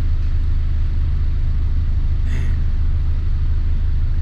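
A 1995 Honda Civic EG with a Spoon-built engine drives along, its steady engine drone and road rumble holding a constant loud level throughout with no talking.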